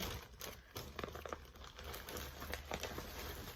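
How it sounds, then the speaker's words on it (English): Plastic packaging crinkles and rustles up close while cross-stitch projects are handled, in irregular crackling bursts with no talking. "sorry about all the crinkling"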